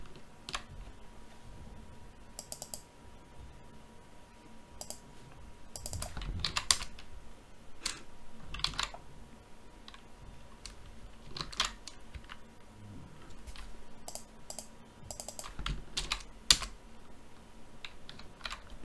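Someone types code on a computer keyboard, making close, quiet clusters of key clicks in uneven bursts with short pauses between them.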